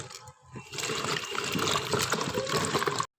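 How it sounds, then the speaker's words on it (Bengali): Cut chalta (elephant apple) pieces being washed in water, a close continuous splashing and trickling that starts after a brief pause and runs steadily until it cuts off. "এখন চালতাগুলো ধুয়ে নেব।"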